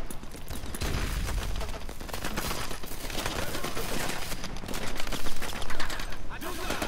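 Sustained bursts of automatic gunfire and shooting from Call of Duty: Advanced Warfare roll on without a break, loud and dense, with someone talking over the battle.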